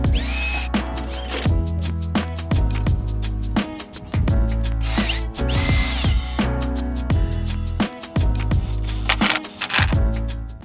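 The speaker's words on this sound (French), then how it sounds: "Je vais repercer étant donné que c'est de l'aluminium et ces vis-là ne sont pas autoforeuses." Power drill boring into aluminium while decking is fitted, a loud motor whir in repeated bursts with bumps and clunks between them, all close up and with no talking.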